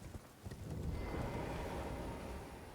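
Horse galloping in Elden Ring, rapid hoof clip-clops thudding over a rising rushing bed of movement noise, close and fairly loud with no speech.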